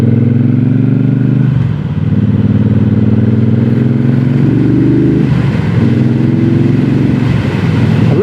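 A 2026 Triumph Bobber 1200 parallel-twin engine drones steadily while riding, a loud low thrum whose pitch rises and falls with throttle changes and gear shifts.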